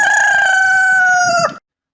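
A rooster crows once, loud and close, in a long sustained call that cuts off sharply at the end.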